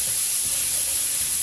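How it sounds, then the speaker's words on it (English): Bacon cut into half-inch pieces frying in a pan, a steady close sizzling hiss with faint low pops, no talking. "we're frying out the bacon right now"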